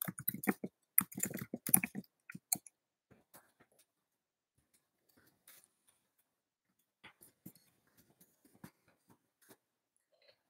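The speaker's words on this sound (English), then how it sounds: "let me just type it in" Keys clack on a computer keyboard as a web address is typed, a dense burst of quick taps in the first couple of seconds, then sparse, scattered single keystrokes with long quiet gaps between them.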